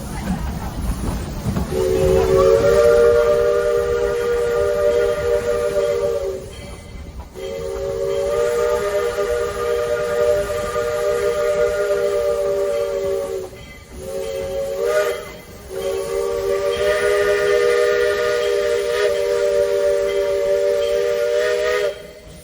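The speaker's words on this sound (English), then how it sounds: "you hear two long, one short, and another long blast of a horn or a whistle" Steam locomotive whistle on a mountain train ride between Silver Plume and Georgetown, Colorado, sounding a crossing signal: long loud blasts with a short break and a brief one, ringing out over steady rumbling train noise.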